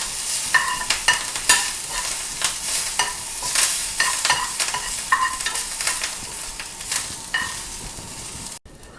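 Coriander and curry leaves crackle in hot oil as a tempering for ginger curd chutney, a loud, steady sizzle with sharp pops throughout that cuts off abruptly near the end.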